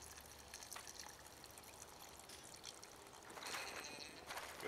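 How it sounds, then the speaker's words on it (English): Stream water trickles as it is poured through a filter outdoors, a faint, continuous splashing dribble that swells slightly toward the end. "So the water I got from the stream was just going to be filtering right now as it gets poured."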